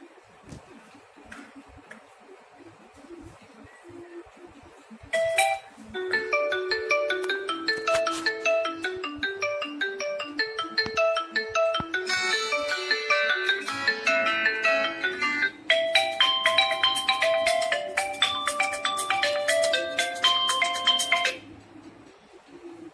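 A Redmi Note 7 smartphone plays a melodic ringtone through its speaker, a bright, tinkling series of tones that runs for about sixteen seconds at steady volume, with low background noise before it starts.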